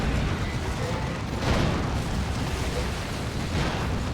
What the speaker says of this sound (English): Cyclone Missile Launcher